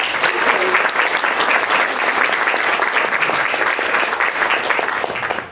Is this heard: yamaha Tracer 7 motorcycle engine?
no